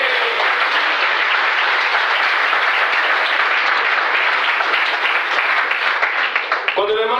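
A church conference congregation breaks into loud, sustained applause and cheering, a thick continuous roar of clapping that stays strong, with a voice rising over it near the end.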